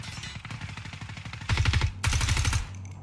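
Automatic gunfire in the tactical shooter game Ground Branch during a PvP match comes as rapid, rattling bursts. The steady fire grows louder and denser in two later volleys, and no one speaks.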